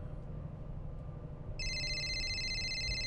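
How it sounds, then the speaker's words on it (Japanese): Phone in the video game World of Demons (Kyoei Toshi) starting to ring halfway through, a bright electronic warble that stays steady and fairly loud over low ambient game hum. "あ、なんか電話来たぞ。"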